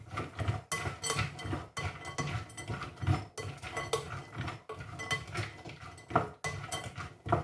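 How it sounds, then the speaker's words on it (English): Nuts being mixed with ginger, cayenne pepper and salt in a bowl: a steady, close clatter of a spoon scraping and clinking against the bowl, with repeated strokes and nobody talking. "some cayenne pepper, a bit of salt, and we're going to mix that together thoroughly"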